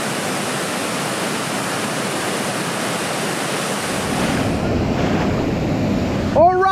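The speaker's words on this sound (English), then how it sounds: "Well, look at these beautiful waterfalls." Waterfalls on a river in Alaska, a loud steady rushing roar of falling water close by, with a brief high chirp-like sound near the end.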